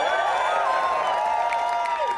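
A rally crowd applauds DSA with loud, continuous cheering, whooping voices and clapping, a thick roar that holds steady throughout.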